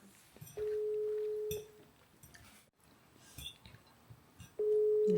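A phone call rings through to voicemail, with a steady electronic telephone tone sounding twice, about a second long each time, separated by quieter room noise and faint clinks.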